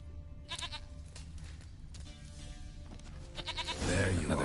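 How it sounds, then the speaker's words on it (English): A goat in The Witcher 3 video game gives several short, wavering bleats, with the last one louder and longer, over a low game background rumble. "Here, goat."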